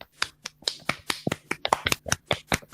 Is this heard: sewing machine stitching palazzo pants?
no